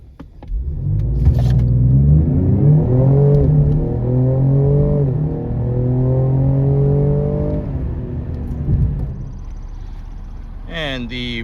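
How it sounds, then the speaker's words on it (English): A 2025 Lincoln Aviator and a Ford Explorer ST accelerate hard in a test, the engine rising through several gear changes as a loud, sustained roar that climbs and drops before fading. "But right now we're gonna see which is quicker."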